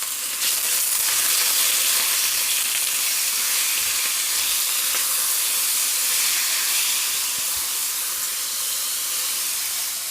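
Marinated beef strips with garlic, pepper and Worcestershire sauce sizzle hard in a very hot wok, a loud, unbroken hiss that holds steady close by throughout.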